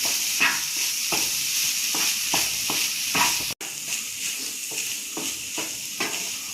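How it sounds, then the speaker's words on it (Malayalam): Masala rice stirred with squeezed lemon juice in a pan, a steady soft sizzle broken by repeated scraping strokes of the spoon at an irregular rhythm, close and fairly loud, with no talking. "ഇനി നമുക്ക് നന്നായിട്ടൊന്ന് മിക്സ് ചെയ്തെടുക്കാം"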